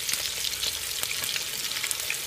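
Chicken wings frying in hot oil, a dense, steady crackling sizzle with scattered pops, close up and continuous, with no voices.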